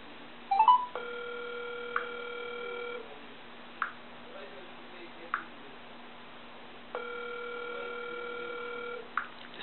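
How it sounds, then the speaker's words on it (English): A telephone line rings on a talk show's call-in segment, two long electronic ring tones separated by a pause, with faint clicks between them. "It's ringing."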